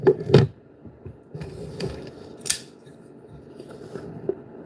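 Knife cutting a hole in a cardboard PC case, with a few sharp scraping and slicing strokes close by, separated by quieter rustling handling of the cardboard.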